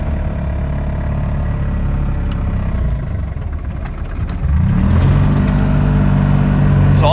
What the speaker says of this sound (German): Eines der ersten Moped-Autos mit einem Dieselmotor und darum ist es auch ein bisschen laut